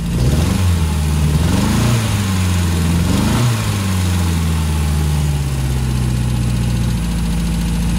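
Fiat 850 Spider engine revving up and easing back several times, loud and close, with a steady mechanical drone filling the whole stretch.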